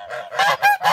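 A domestic goose gives three loud, harsh honks in quick succession, close and aggressive, with no voices over them.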